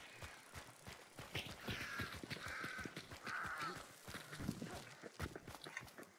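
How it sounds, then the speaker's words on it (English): Crows caw in a quick series in the video game Hunt: Showdown, mixed with crunchy footsteps moving steadily through the scene. "I just had to stop stop short and go around some birds real quick."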